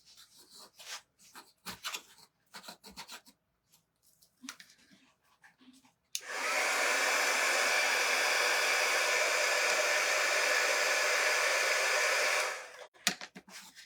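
A heat tool blasts hot air onto hot glue on a farmhouse wooden tiered tray, a loud steady roar lasting several seconds between stretches of quieter handling noises.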